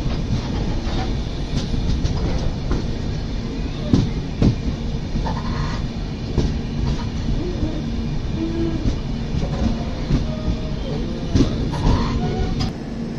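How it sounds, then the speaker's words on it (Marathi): A Konkan Railway train at Sangameshwar Road station rumbles steadily and loudly, with rattling wagons and clickety-clack beats running without pause and no talk. "ही सावंतवाडी दिवा एक्सप्रेस बहुतेक तीच असावी"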